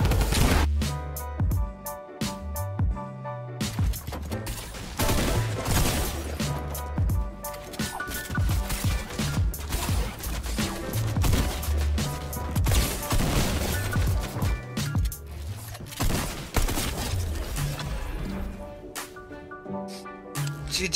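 Shooter video game gunfire, with dense bursts of rapid shots, impacts and crashes continuing for the whole stretch at moderate level.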